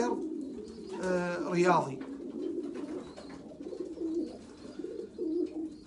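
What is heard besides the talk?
pigeons cooing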